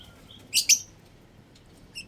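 Small birds chirp near nesting boxes, a couple of quick bright tweets close together followed by a fainter chirp a moment later, over quiet background.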